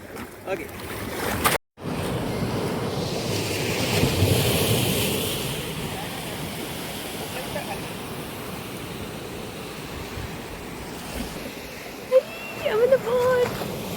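Boat ride across the open sea out to a scuba diving spot: steady rushing wind and surf noise with a brief dropout near the start, and a few voices emerging near the end.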